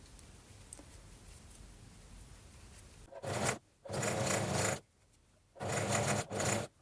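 A sewing machine stitches fabric in three loud bursts of steady whirring, separated by short pauses, after a quiet opening.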